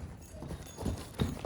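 A horse walking at a steady pace in a riding lesson, hooves clip-clopping in a regular rhythm up close, with a few heavier footfalls toward the end.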